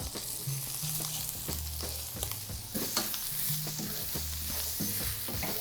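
Mushrooms sizzle in a frying pan used for a steak dinner, with loud close frying hiss and repeated scraping, knocking stirs at an irregular rhythm, no voices.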